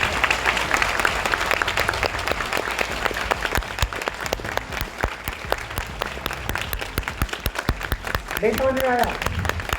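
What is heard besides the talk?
audience clapping at a seminar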